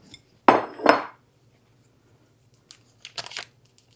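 A butter dish set down in a home kitchen during breakfast baking, two sharp clinks close together followed after a pause by a lighter cluster of ceramic and glass taps, close and fairly loud, with no talking.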